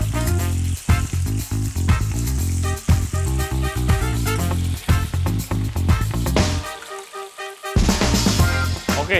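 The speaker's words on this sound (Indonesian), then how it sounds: "Kita goreng pakai minyak yang sedikit." Meat frying skin side down in a little hot oil in a pan, giving a loud, steady sizzle and crackle that runs almost throughout, with a brief drop partway through.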